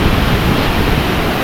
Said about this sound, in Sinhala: මේ බලන්නකො ඇල්ල